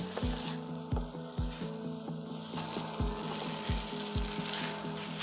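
Chopped tomatoes fry in a pan for restaurant-style pad thai, giving a steady, close sizzle with repeated scrapes and stirring knocks from a utensil across the pan.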